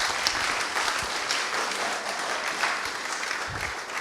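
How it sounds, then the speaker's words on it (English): Wedding guests break into a sustained round of applause, many hands clapping at moderate distance in a steady crowded patter with a few louder claps poking through. "I'd like to just give you all a massive round of applause."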